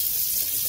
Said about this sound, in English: So just using some cold water, I'm going to spray off a bunch of this